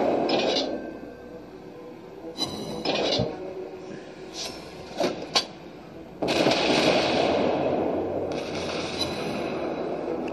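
Warship guns fire in the World of Warships naval battle game, with several booming salvos and sharp bursts spread over a rumbling background, moderately loud.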